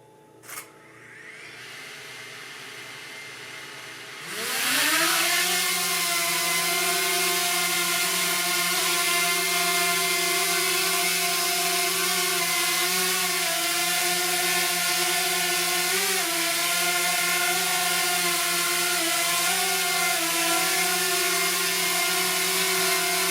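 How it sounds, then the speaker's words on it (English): A DJI Mini 2 drone spinning up and lifting off indoors, a faint click and hush before the propellers surge into a steady high whine that holds level while it hovers close by. "let's go ahead and get the drone up"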